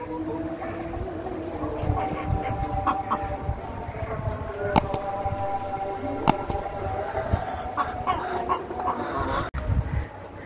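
Tiger chickens cluck and call on a poultry farm, with repeated close, overlapping clucks and a few sharp louder calls over a steady background hum.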